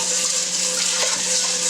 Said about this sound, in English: Discard of the dirty water.